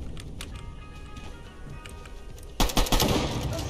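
Pistol fire in a video game, a few sharp scattered shots early, then a rapid loud burst of repeated cracks starting suddenly partway through and continuing to the end.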